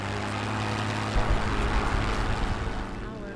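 Propeller warplane engines from World of Warplanes drone steadily at a near, loud level, holding a continuous hum with slight swells, with game sound layered over it.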